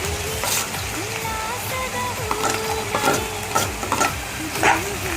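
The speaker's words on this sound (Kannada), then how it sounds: "ಉಳ್ಳಾಗಡ್ಡಿ, ಮೆಣಸಿನ್ಕಾಯಿ, ಬೆಳ್ಳುಳ್ಳಿ ಹುರ್ಕೋಬೇಕು ಕೆಂಪು ಕಲರ್ ಬರೋಂತ" Onion, green chilli and garlic frying in a pan, a soft continuous sizzle broken by repeated scraping stirs and small clinks, heard close and fairly quiet.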